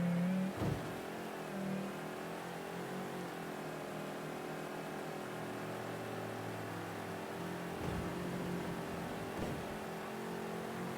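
A car in the video game Mafia III accelerates, its engine holding a steady droning hum with slowly rising and shifting pitch, a few brief knocks breaking the continuous tone.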